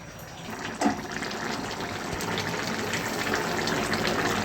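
A cooked banana flower and prawn curry being poured out, with a soft, continuous liquid rush, a small clatter near the start and a steady wet flow throughout.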